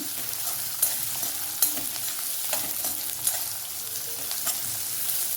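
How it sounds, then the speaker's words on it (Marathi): Onion fries in a pan for a wild mountain greens dish, a soft continuous sizzle with occasional light stirring clicks, fairly quiet and close, with no voices. "आता कांदा चांगला परतून घ्यायचा"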